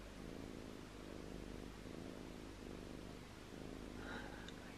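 Soft, rhythmic purring rumbles low and close, slow breaths cycling evenly with a faint high sound near the end.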